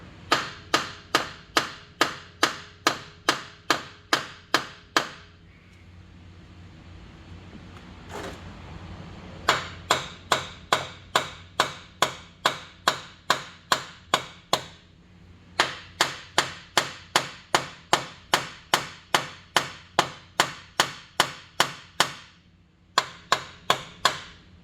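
A hammer pounds on the oil pan of a 2011 Ford Escape with the 2.5L engine, giving loud, sharp metallic strikes in quick regular bursts, separated by brief pauses filled with low background rumble.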